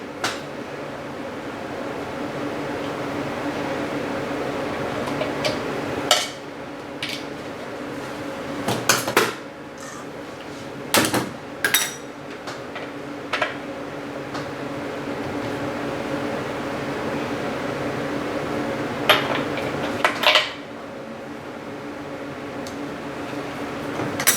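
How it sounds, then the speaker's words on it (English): A 5/32 Allen wrench works on the bearing cover of a Twister T4 scooter, giving several sharp metallic clicks and clinks at irregular intervals over a steady background hum in a quiet workshop. "We're going to do that with a 5/32 Allen wrench."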